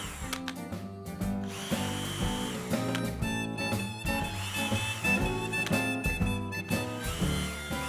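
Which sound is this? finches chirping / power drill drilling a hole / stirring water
power drill drilling a hole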